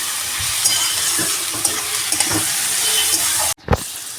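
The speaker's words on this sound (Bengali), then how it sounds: "একটু যেহেতু কাঁচা মশলাটা দিলাম একটু ভাজা হোক।" Garlic paste and raw spices fry in a pan with a steady, close sizzling hiss that runs throughout, broken by a few stirring clicks and a brief sharp cutoff near the end before the sizzle resumes.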